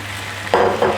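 Minced meat tipped into a hot pan for a shepherd's pie, starting with a low background hum and then breaking into a sudden close-up sizzle and crackle that swells twice, loud and alone.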